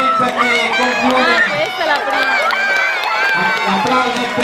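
Crowd applause and cheering at a regional youth team competition, steady and loud throughout, mixed with lively chatter and shouting voices.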